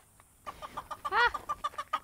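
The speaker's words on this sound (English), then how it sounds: "Raptor Blue is one of the oldest chickens we've got." A chicken clucks in a quick series of short, close-up clucks, with one louder squawk in the middle, over an otherwise quiet background.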